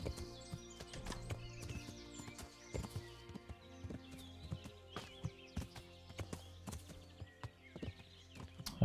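Horse hooves clip-clop steadily in the medieval game Kingdom Come: Deliverance as the horse travels, with a regular rhythm of close, crisp hoof strikes over continuous game music and ambience.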